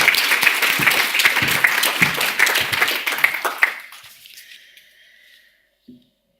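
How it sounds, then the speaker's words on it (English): An audience at an equality and diversity awards ceremony gives a round of applause for the winners, dense clapping that thins and fades out over a few seconds. "Final round of applause for our final winners."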